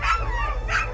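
A sled dog in snowy Svalbard lets out two short, close whimpering yips within a single second.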